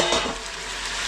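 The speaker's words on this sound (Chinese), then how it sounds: "滋滋冒油了" Yak ribs with ginger, garlic, oyster sauce, Sichuan pepper and sugar sizzle loudly in hot oil, a dense crackling hiss that runs unbroken for a moment.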